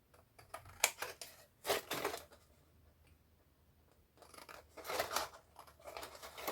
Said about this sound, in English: you want to just cut here